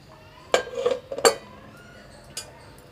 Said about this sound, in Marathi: कुकर आता थंड झाला आता खोलून